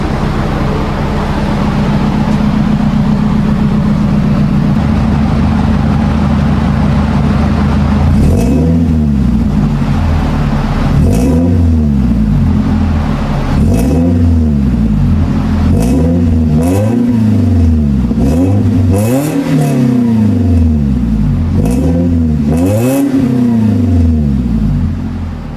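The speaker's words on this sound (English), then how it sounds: "So I'm placing my phone at the back so you guys can properly hear how this car sounds." A used car's engine, recorded from behind the vehicle, idles with a rough steady drone and then revs repeatedly in rising and falling surges, loud and close, with a clattery edge on each blip.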